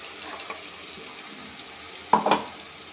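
Tomato paste frying in a pan with ginger-garlic paste for a Bengali katla fish kalia, a soft steady sizzle broken near the end by a louder burst of stirring and spattering.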